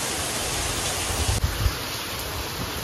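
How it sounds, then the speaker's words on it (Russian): Heavy rain pours steadily outside the entrance of a clinic, a loud, dense, continuous wash of noise with a few brief low thumps partway through. "А тут такой дождь шпарит, вообще конкретный."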